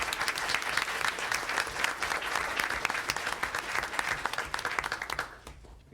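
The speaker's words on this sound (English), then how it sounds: "How about a round of applause for the Wave Riders?" An audience at a school district board meeting applauds a student team, steady loud clapping from a roomful of people that fades out near the end.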